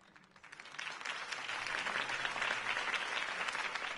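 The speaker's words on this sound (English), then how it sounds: "If only Mr. Wayne, my campaign's largest backer, could have heard that applause" Crowd applauding a campaign speech, clapping swelling from quiet into a broad, steady roar of many hands that holds at full strength, somewhat distant and unbroken by voices.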